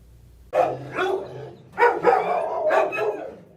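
Dogs bark repeatedly inside a crowded animal shelter, a cluster of overlapping barks and yelps at moderate distance with brief pauses between bursts.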